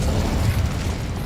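Cast of the Incendio fire spell in Hogwarts Legacy, a steady crackling, roaring burst of flame filling the short moment at an even, fairly loud level.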